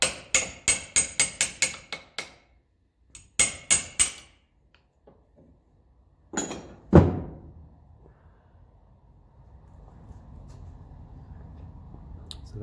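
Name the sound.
hammer and punch tapping out a pin on Ferguson tractor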